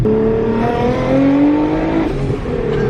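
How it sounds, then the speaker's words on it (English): A BMW M3 accelerates hard from inside the cabin, its engine revving up through the range with rising tones and a brief dip between gears. The engine roar is loud and close and fills the whole clip, with no talk. "This is the fastest car I've ever driven. It pulls really freaking hard"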